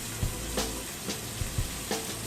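A steak that has just been turned sizzles loudly and continuously in a hot pan, with a few soft knocks and scrapes over the dense, close frying noise.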